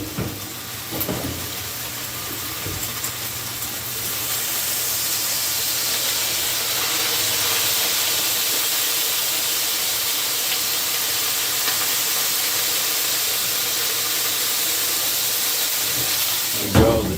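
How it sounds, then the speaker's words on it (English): Water hits a hot Blackstone griddle with a sudden burst of steady hissing steam that settles into a loud, continuous sizzle, with a few clatters at the start and end. "get like maybe just a little bit of water, throw it in there too, just to steam it"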